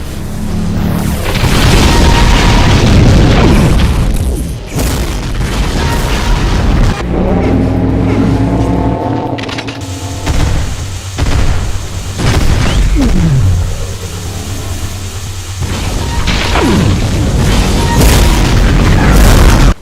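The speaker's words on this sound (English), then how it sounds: "Demon Tech BFG shots," Demon Tech BFG shots exploding in a Doom mod, loud repeated booming blasts with rumbling tails, some sharp bursts and sweeping tones between impacts, continuing throughout.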